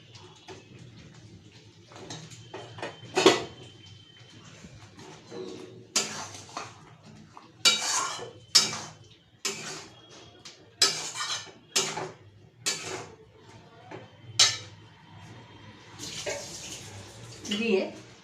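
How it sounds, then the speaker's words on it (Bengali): Fried potatoes are stirred into masala in a pan while cooking egg korma, giving a run of irregular scraping and clattering strokes against the pan, close and fairly loud, with a low background hum and no talk. "ভাজা আলুগুলো দিয়ে দেব, দিয়ে এটাকে আমি কষতে থাকবো।"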